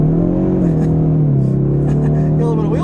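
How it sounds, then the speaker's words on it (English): A 2024 Mustang EcoBoost in sport mode with a sport exhaust accelerates hard, its engine note droning loud and steady as revs climb, with a brief wheel-spin moment under the exhaust. "doing an acceleration in the EcoBoost, we have it in the sport mode with a sport exhaust"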